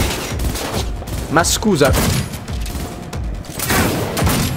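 Shots from Johnny Silverhand's pistol in the Cyberpunk 2077 video game crack amid loud combat clatter, while someone briefly speaks over the action.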